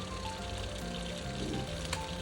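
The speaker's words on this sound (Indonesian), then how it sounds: "Lanjut dengan goreng ayam yang tadi sudah dimarinasi." Marinated chicken pieces fry in hot oil over medium heat, a close, continuous crackling sizzle with a steady low hiss and occasional louder pops.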